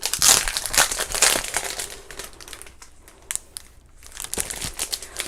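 Stiff silver and gold specialty paper and thick cardboard crinkling and crumpling as they are handled, loud rustling bursts near the start, then quieter intermittent crackles and taps.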